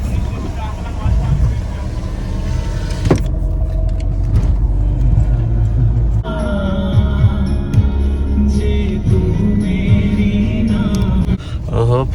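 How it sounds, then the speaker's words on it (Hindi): A Toyota Innova drives down into a parking garage, its engine a loud steady rumble echoing off concrete, with tonal whines and shifting noises as it moves; people talk over the engine. "6176 इनोवा गाड़ी आ रही है।"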